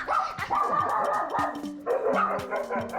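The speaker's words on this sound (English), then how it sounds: "Poodle dog barking." Small poodle barking in short sharp yips, several quick barks in a row at close range, loud and clear with no talking.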